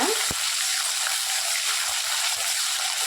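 Mustard seeds, urad dal, dried chillies and ten cloves of crushed garlic sauté in hot oil in a pan, giving a steady, close, hissing sizzle with faint crackles throughout and no talking.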